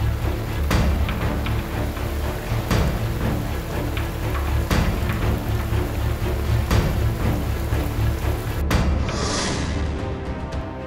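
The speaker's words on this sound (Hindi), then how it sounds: "भारी बारिश के बाद बाढ़ जैसी स्थिति पैदा हो गई है।" Heavy, steady rain pouring down on flooded city streets, a dense continuous hiss throughout with a few brief sharp cracks, loud and unbroken with no voices.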